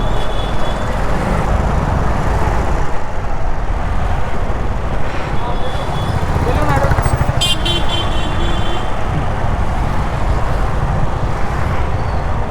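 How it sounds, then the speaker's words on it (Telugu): Heavy road traffic on Mangamuru Road, with a constant engine rumble and several car and motorcycle horns tooting at intervals, loud and close, while a person talks over it. "traffic traffic traffic"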